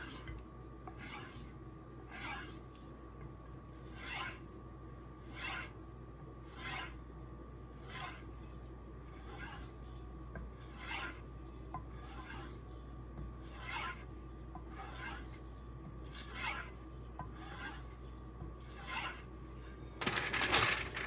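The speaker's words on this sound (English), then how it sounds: "I'm just going to strop on leather with some white chromium oxide compound." A steel chef knife is stropped on leather loaded with white chromium oxide compound, giving a steady rhythm of soft rasping strokes about every second, and a brief sharper scrape near the end.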